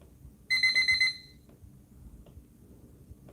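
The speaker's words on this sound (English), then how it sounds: "Is that timer sound off?" A timer alarm on a live trading stream gives a short series of loud, rapid electronic beeps lasting under a second, then stops, leaving quiet room tone.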